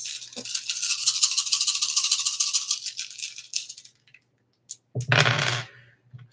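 Dice rattle for several seconds as they are shaken in a hand or cup, then go quiet before a brief sharp clatter as they are tossed and roll to a stop on a surface.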